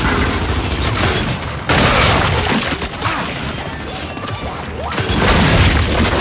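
Boomshot grenade launcher blasts in Gears 5, loud booming explosions with crashing debris, one heavy burst after another in quick succession, close and dense with little pause.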